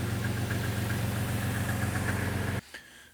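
A Jeep XJ engine idles with a newly installed exhaust of tail section, mid section and muffler, giving a steady, loud, close rumble that cuts off abruptly near the end.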